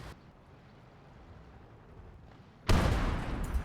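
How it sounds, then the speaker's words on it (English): A tank shell slams into the turret of a Tiger during a PvP match in Gates of Hell, arriving as one sudden loud crashing impact after a quiet stretch, its roar carrying on for about a second. "first shot, he nails me through the turret"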